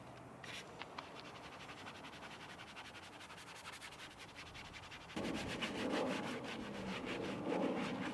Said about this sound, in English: detailing brushes in order to give a little bit of a deeper clean to areas like the rubber seals and also the plastic trim